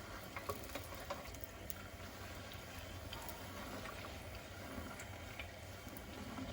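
Tortilla shell frying and puffing in hot oil for shredded chicken puffy tacos, a steady close bubbling sizzle with small crackling pops throughout and no talking.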